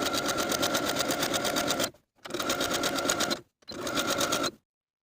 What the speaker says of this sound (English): Now I'm going to edge stitch close to the raw edge on the inside all the way around with a medium zigzag